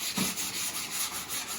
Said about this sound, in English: I always sand a bit more so I get a nice smooth edge.